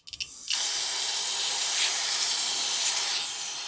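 A steady, loud aerosol hiss of brake parts cleaner sprayed onto a steering column bearing of a 1991 Ford F-150, beginning after a few short bursts and lasting about three seconds before easing off.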